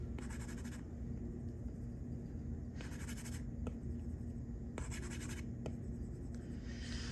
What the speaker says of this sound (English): the way it feels when I use my pen, my Apple Pencil. You can probably hear that